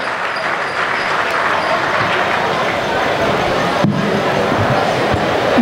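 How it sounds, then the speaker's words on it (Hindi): Steady, dense applause from the audience at a Hindi comic poetry gathering, clapping continuously and fairly loud with a slight swell near the end. "एक बार तालियां बजाइए"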